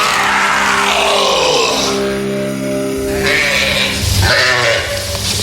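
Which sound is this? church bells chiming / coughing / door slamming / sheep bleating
sheep bleating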